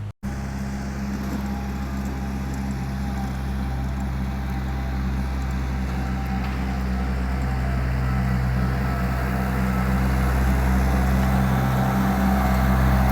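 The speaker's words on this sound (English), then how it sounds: "Well, there's Jerry on the tractor with the aerator" A tractor pulls a lawn aerator across a yard's grass, its engine a loud, steady low drone throughout with a constant mechanical rumble and no voices.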